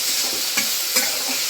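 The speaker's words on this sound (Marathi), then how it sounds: "आणि कांदा आता आपण छान तेलावर परतून घेणार आहे, ब्राऊन कलर होईपर्यंत." Finely chopped onion sautéing in hot oil over medium heat with a pinch of asafoetida, a dense close sizzle with a couple of quick stirring scrapes.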